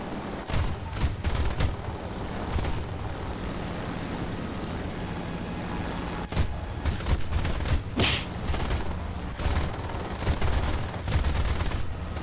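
Aircraft guns fire in repeated rapid bursts during a War Thunder dogfight flown in a Bf 109, with a P-38 nearby. Loud staccato volleys come over a steady engine drone and wind roar, and no one speaks.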